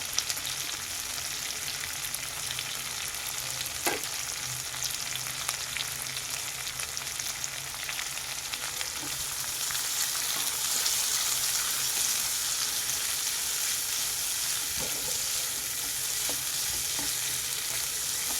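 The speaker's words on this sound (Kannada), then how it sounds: "ಈರುಳ್ಳಿ ಫ್ರೈ ಆಗಬೇಕಾದ್ರೆ ಗ್ಯಾಸ್ ಸ್ಟವ್ ಫ್ಲೇಮು ಹೈನಲ್ಲೇ ಇರಲಿ" Onions browning in a pan over a high gas flame for a dhaba-style paneer curry sizzle steadily and fairly quietly, with occasional stirring taps and the frying growing slightly louder in the second half.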